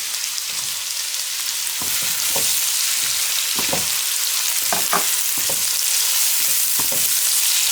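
Tomatoes go into a hot frying pan of vegetables for pulao, a steady sizzle broken by repeated close spoon scrapes and knocks in an irregular rhythm, no talking.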